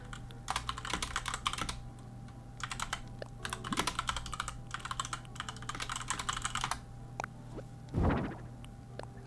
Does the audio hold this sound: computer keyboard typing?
yes